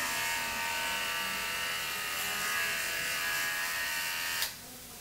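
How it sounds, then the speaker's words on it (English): Electric clippers buzz steadily, shaving the surgical site on a dog before an ovariohysterectomy, with a close, even hum that cuts off abruptly near the end. "prep the patient for surgery by shaving the surgical site with clippers"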